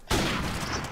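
Rapid automatic gunfire bursts out loud and close in a Cage Match round of a shooter video game on the Shipment map, a dense continuous volley lasting about a second.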